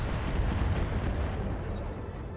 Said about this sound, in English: it's getting chipped down pretty hard by these turrets